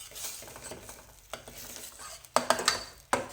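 A ground masala of onion, ginger, garlic and chilli fries quietly in a pan while a spatula stirs it, soft sizzling broken by a few sharp scrapes and clinks against the pan.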